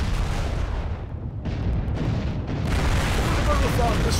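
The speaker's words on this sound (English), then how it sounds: "just keep firing missiles in there" A mech in MechWarrior Living Legends fires missiles in a dense, loud barrage of rumbling launches and blasts that keeps going without pause, with a voice faintly underneath.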